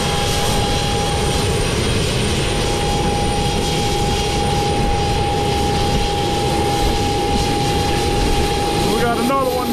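A parked private charter aircraft's auxiliary power unit runs with a loud, steady drone and a constant high whine that hold unchanged throughout, close by and with no voices.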